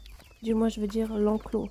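Free-range chickens cluck around a farmyard coop in short, close, repeated calls, with someone speaking French over them.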